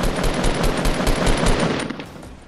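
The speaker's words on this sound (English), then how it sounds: "What are you shooting at, dude?" Rapid automatic gunfire in the video game Fortnite rattles loudly and steadily in a continuous burst of close shots, easing off toward the end.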